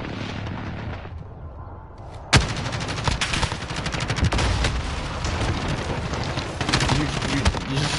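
Sniper-rifle gunfire in the video game Modern Warfare: a sharp, loud crack, then a dense, continuous stretch of rapid battle fire and explosions.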